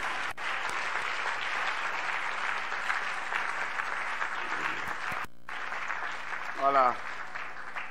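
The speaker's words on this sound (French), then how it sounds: "Est-ce qu'on peut remercier le docteur Grace Tim en acclamant?" Applause from an audience thanking a cardiologist, Dr Grâce Ntima, after a talk on hypertension; steady clapping fills the room throughout, with someone speaking briefly over it near the end.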